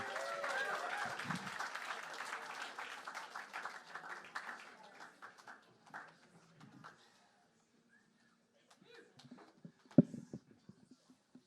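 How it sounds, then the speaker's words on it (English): Stand-up comedy club audience in Seattle applauding and cheering as the next comic takes the stage, a loud burst of clapping and crowd noise fading away within several seconds, followed by near silence and a few scattered sounds. "Big round of applause for Andy Herman."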